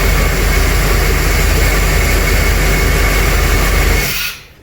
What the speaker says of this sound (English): It's good to hear this thing run smooth